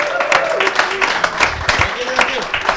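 An audience applauds a band at a live show, dense crowd clapping close and loud, with voices mixed in underneath.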